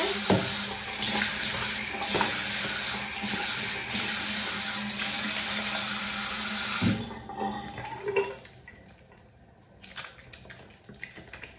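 Tap water runs and splashes at a sink while a face is rinsed after lathering with facial wash, a steady close rush that cuts off partway, leaving a few scattered drips and splashes.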